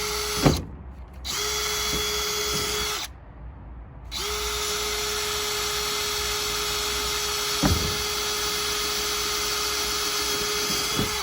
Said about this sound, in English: And again, drill a pilot drill